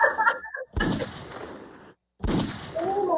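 Two loud gunshot sound effects fire from a soundboard: each is a sharp, booming blast with a rumbling tail, separated by about a second and a half of near silence.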